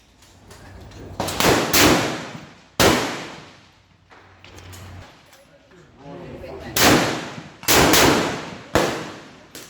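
Centrefire rifle shots at a metallic silhouette target competition in Brisbane, several sharp loud cracks spaced seconds apart, each ringing out briefly, with a few faint voices between them.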